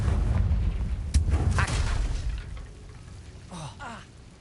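A Confringo fire-blast spell cast in the video game Hogwarts Legacy, heard as a sudden whooshing burst over a low rumbling game soundscape, followed by softer swishing effects.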